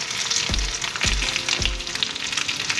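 Potatoes spread in a single layer fry in a hot pan, a steady bright sizzle throughout, broken by three low knocks or thumps at roughly half-second intervals, close and with no talking.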